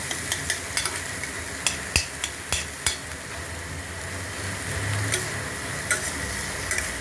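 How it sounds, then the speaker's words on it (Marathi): Vegetables with onion, tomato, salt and ginger-garlic paste being stirred in hot oil in a wok, a steady sizzle broken by sharp scraping clicks of the spatula at an irregular rhythm, close and alone. "तेलामध्ये आपण कांदा आणि टोमॅटो आणि मीठ टाकलेलं आहे आणि परतून घेऊ"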